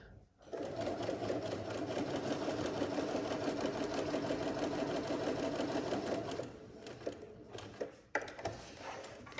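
A Bernina B335 sewing machine runs a second row of long gathering stitches, a fast, even mechanical whirr for about six seconds before stopping, followed by a few handling clicks.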